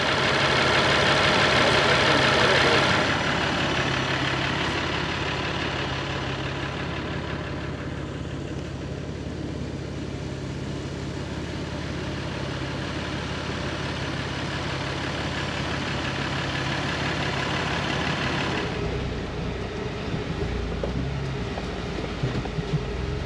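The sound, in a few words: truck engine idling while steering turned back and forth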